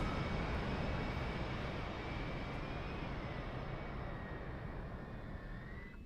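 An F/A-18C auxiliary power unit spools up in the DCS flight game, a steady loud broadband roar with a faint rising whine, continuous and close, slowly easing in level.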